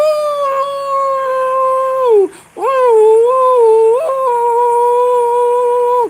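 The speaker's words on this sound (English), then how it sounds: "Ooh, that was a singing husky." A husky howling sound effect plays loud and close: a long, melodic, singing howl that slides down, breaks off, then rises into a second sustained wavering howl, with no voices.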